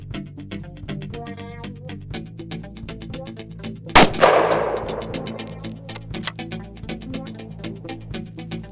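A hunting rifle fires a single sharp, loud shot at a buck partway through, and its echo rolls away over several seconds above a quieter musical background.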